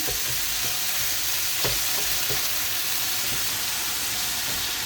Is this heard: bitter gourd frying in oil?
yes